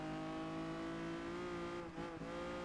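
Lamborghini Diablo engine in Project Gotham Racing 4, a steady high-pitched harmonic drone held at constant revs, loud and close, briefly dipping near the end as if lifting off the throttle.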